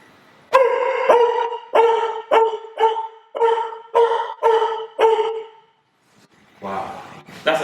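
A voice imitates a bulldog barking, giving about eight loud, gruff, evenly spaced barks close up, followed by a pause and a short burst of voices.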